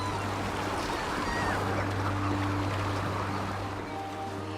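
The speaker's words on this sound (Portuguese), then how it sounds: "Essas aves marinhas são bobos de cauda curta." A large flock of short-tailed shearwater seabirds gathering around a boat at sea in the Aleutians, a dense steady wash of overlapping calls over constant engine drone and water.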